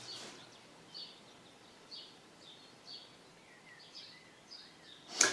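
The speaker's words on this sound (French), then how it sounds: "si je me tais, vous entendez les oiseaux" Birds singing outdoors in a quiet natural setting: repeated short chirps and whistled phrases at moderate distance, spaced about a second apart, ending with a brief louder rustle.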